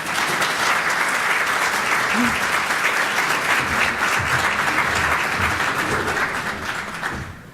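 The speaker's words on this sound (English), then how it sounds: "Let's get another round of applause for both of them" Sustained audience applause at an Oklahoma economic forum, dense clapping from many hands held at an even level before tapering off at the end.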